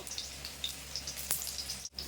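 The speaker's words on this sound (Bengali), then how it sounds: "তো এগুলো এরকম লাল লাল করে ভেজে নেবো" Steady, close crackling sizzle of chicken momos frying in hot oil, with scattered pops and a low constant hum underneath, no voices.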